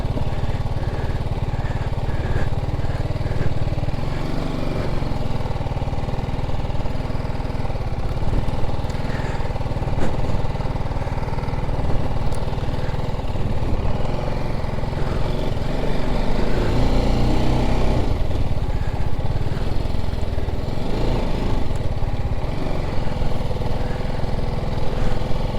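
A motorcycle engine drones continuously during an off-road stretch of a long ride from Ambala toward Nepal, a steady, loud mid-pitched rumble with slight rises and dips and rough outdoor noise throughout.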